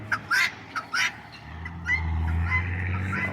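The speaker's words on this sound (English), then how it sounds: "And these are Brahma chickens." Several short, bright calls from Brahma chickens burst out in quick succession at the start, then softer clucking over a steady low hum from nearby machinery on a small farm.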